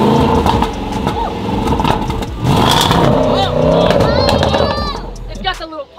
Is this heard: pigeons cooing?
no